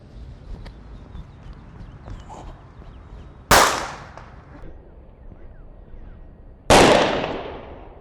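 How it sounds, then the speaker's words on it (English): A Black Cat firecracker bursts inside a tomato with two sharp, loud cracks several seconds apart, each a sudden bang trailing off quickly over quiet background noise. "So we can see the kind of damage that would be caused just from this black cat going off."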